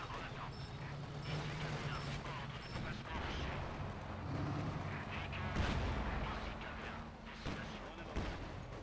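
Artillery cannons fire in a Company of Heroes 2 battle, with heavy booms and dense gunfire rolling on without a break under a busy battlefield din. Voices are also present.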